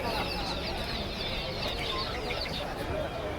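Chickens clucking and cackling amid a busy crowd of voices and general bustle at a village market in Kerala, steady and close.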